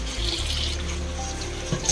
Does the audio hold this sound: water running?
yes